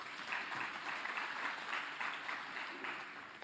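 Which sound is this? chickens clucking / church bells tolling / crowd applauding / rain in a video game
crowd applauding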